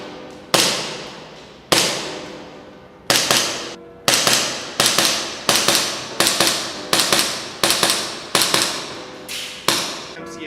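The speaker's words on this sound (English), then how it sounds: "I'll be firing the Acetech Lighter-R in red mode, firing G&G .25 red tracer BBs." Repeated sharp shots from an airsoft pistol fitted with an ASG CZP09 Urban Gray suppressor, using an Acetech Lighter-R tracer unit in red mode and firing G&G .25 red tracer BBs. Roughly a dozen crisp cracks come close and loud, starting spaced out and then settling into a steady rapid rhythm.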